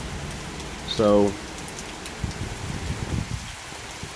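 Rain falling as a storm moves in, a soft steady patter of drops outdoors, faint under someone speaking briefly.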